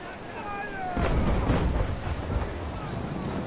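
Stern cannons of a brig firing at sea in the naval combat game Naval Action: heavy booming blasts with rumbling low-end decay, several overlapping reports over steady ambient wash.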